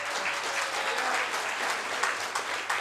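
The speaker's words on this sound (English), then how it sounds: "Please, a big round of applause." Audience applause at an entrepreneurship masterclass event, steady dense clapping from a crowd filling the whole stretch without pause, fairly distant and even.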